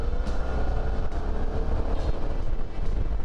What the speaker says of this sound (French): On est à peine à 2500 tours. Bon, on sent bien que ça ratatouille un petit peu dans le moteur là